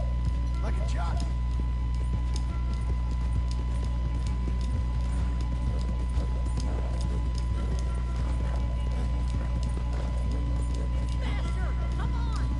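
A horse gallops in the video game Red Dead Redemption II, steady hoofbeats running continuously over a dense game background, with people talking throughout.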